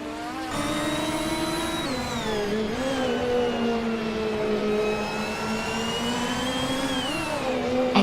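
A 1966 McLaren M1B vintage racing car drones steadily in a racing video game, a sustained, buzzy engine tone that dips and rises gently in pitch as it holds a constant pace, with no talk.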